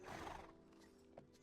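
In the video game Black Desert Online, a horse at a stable gives a short, loud neigh, followed by a softer tail of lower sound.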